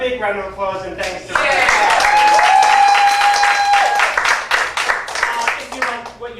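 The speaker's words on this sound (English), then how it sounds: "A big round of applause and thanks to" Audience applause at an improv comedy show, a dense wash of clapping that swells after a brief intro and holds steady, loud and close, with voices and a sustained tone running over it before it thins out.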